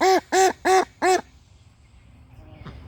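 A Welsh Harlequin duck with fawn-gold coloring quacking loudly, four evenly spaced, harsh nasal quacks up close, followed by quiet background rustling.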